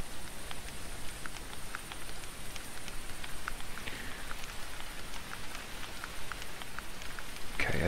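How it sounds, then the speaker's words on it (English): Steady rain falls in the hunting video game The Hunter, a continuous close patter of drops on surfaces with scattered sharper ticks and no talk, swelling slightly toward the end. "And it starts raining."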